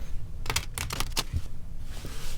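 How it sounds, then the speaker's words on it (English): Tarot cards being shuffled by hand before a Celtic Cross reading: several quick riffling bursts close by, with soft papery flutters and taps, then a short pause. "I will actually shuffle these cards one more time"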